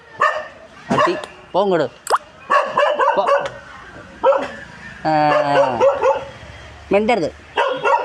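A dog outside a ration shop barks and yips again and again in loud, close bursts, with someone shouting at it between and over the barks.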